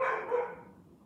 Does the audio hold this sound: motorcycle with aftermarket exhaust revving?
no